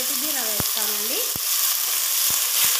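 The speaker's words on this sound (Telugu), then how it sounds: "నేను నూనెలో ఫస్ట్ నేతి బీర వేస్తానండి" Ridge gourd pieces frying in oil, a close, steady sizzle broken by a few sharp clicks. A melodic tone rises and falls over it early on.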